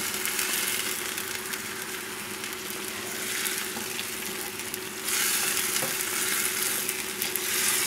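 Chicken breast sautés with onion in a pan, a strong continuous frying sizzle with stirring, steady and close, briefly louder partway through, with no talking.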